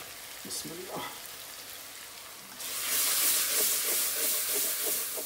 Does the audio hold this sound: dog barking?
no